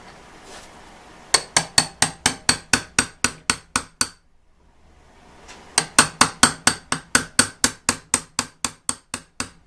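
Two runs of rapid, evenly spaced hammer blows ring out close by as a rivet is set in a Ford Model T transmission band lining. About a dozen sharp metallic strikes come in each run, separated by a brief quiet pause.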